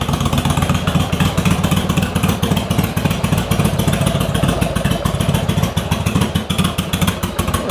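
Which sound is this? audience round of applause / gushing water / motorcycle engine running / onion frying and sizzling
motorcycle engine running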